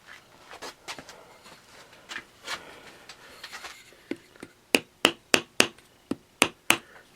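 A homemade wooden hammer strikes dowels repeatedly, starting with softer scattered taps and building into a run of sharp, loud knocks spaced about half a second apart.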